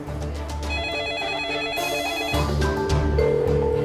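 A telephone rings repeatedly in loud electronic trills, left to ring on without anyone picking up.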